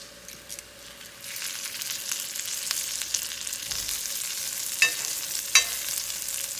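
Taco quesadilla frying in butter in a skillet, a steady close sizzle with soft crackles and a couple of brief sharper pops near the end, no talking.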